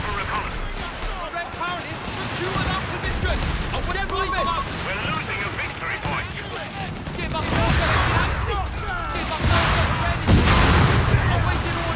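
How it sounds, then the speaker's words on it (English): Sustained machine gun and flamethrower fire in the World War II strategy game Company of Heroes 3 during a 4v4 battle, a dense, rumbling barrage with booming impacts under lively talk. "Using their own MG, flamers against them."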